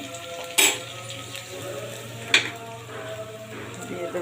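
Onions and green chillies frying in a pan give a soft steady sizzle, with two sharp utensil clinks against the pan and a brief bit of speech.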